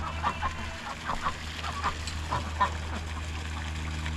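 Ducks on a farm give a series of short quacks and honks over a low steady hum, several calls spread through the morning scene with no one speaking.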